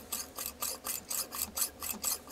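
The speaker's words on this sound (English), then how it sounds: "then we're just going to start drilling" A hole being drilled, heard as a quiet, regular rasping grind repeating about four times a second, close by and alone with no voices.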